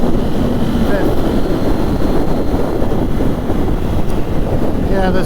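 Wind roars steadily over the open cockpit of a Triumph Trident 660 motorcycle at road speed with no windscreen, a loud unbroken rushing buffet that masks the engine, with faint tonal hints of gear changes near the end.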